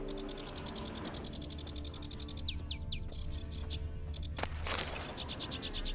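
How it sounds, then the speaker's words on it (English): Birds sing in the Toussaint region of The Witcher 3: Blood and Wine, with quick repeated chirps and trills over a low ambient game drone and a brief swishing sweep partway through. No talking. "Oh, even the birds sound different here."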